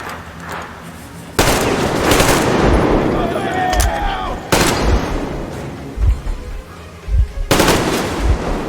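Sustained automatic gunfire in the video game Metro Exodus, with loud rapid bursts and heavy booms near a hangar, dense and continuous with short breaks between volleys.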